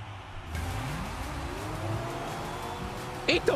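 A Lamborghini's engine revs and hums steadily in Fortnite, rising in pitch as it accelerates, with a sharp burst of other game sound near the end.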